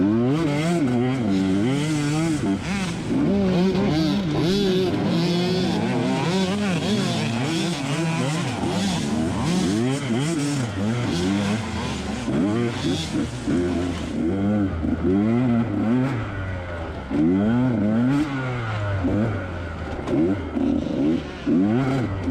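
Dirt bikes race through a harescramble in the woods, with several two-stroke and four-stroke engines revving and bogging in constant overlapping bursts, some close and loud, others farther off.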